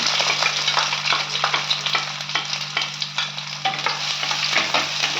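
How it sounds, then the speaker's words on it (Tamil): Sliced onions and curry leaves sauté in a pan of hot oil for Dindigul chicken, giving a steady close-up sizzle with repeated scraping stirs throughout and no talking. "நல்லா வதக்குங்க நல்லா வதங்கட்டும் இது வதங்கட்டும்"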